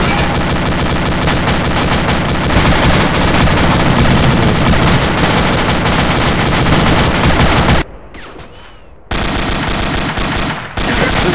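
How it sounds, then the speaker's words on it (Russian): Sustained rapid gunfire from a video game battle, dense bursts of shots roaring loud and continuous, cutting out briefly near the end before resuming. "Ну что ж они стреляют, никого там нет."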